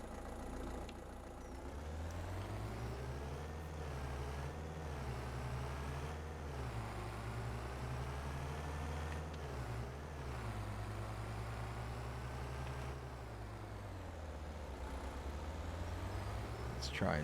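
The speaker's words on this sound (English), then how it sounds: "Let's go ahead and grab the truck once again." A truck engine from the Farming Simulator 25 game, on the North Frisian map, runs at a steady low drone while driving. It holds continuously throughout, with slight shifts in pitch as it moves.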